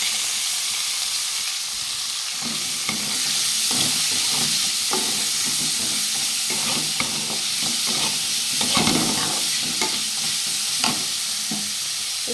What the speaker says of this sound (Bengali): সবজি আমার ভাজা হয়ে গেছে